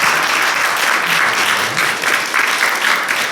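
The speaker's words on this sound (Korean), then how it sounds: "다시 한번 또 환영의 박수 한번 보내드리겠습니다" Welcoming applause from a church congregation during a Sunday worship service, steady, dense clapping that stays loud and even throughout, with no talking over it.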